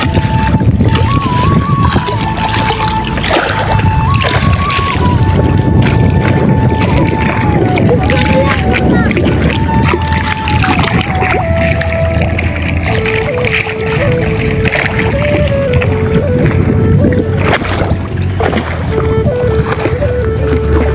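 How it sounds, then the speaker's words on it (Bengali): Choppy river waves at Narsingdi slosh and splash steadily in strong evening wind, loud and close, with wind buffeting the microphone, a boat-like drone running underneath and a person talking over it. "পানির যে শব্দ, ঢেউ, প্রচুর ঢেউ পানির"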